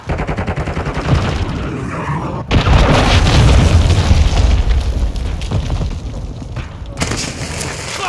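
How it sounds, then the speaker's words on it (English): A cruise missile strike lands in Call of Duty Modern Warfare 2 Domination on the Shoot House map: heavy booming blasts and rumbling explosions roll on for several seconds, loud and close, with gunfire around them and brief game voice callouts. "Friendly cruise missile deployed."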